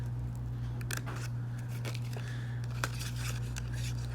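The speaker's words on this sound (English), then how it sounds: "Now taking some fine tip scissors, we can just cut out" Fine tip scissors snip out the leftover paper corners of a decorative matchbook box, a series of quick, close, crisp cuts over a steady low hum.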